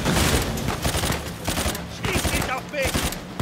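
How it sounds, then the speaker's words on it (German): Rapid automatic gunfire and volleys of shots from a firefight in the video game Uncharted 4, dense and loud throughout with voices mixed in. "Wir können hier die Leute so abschießen?"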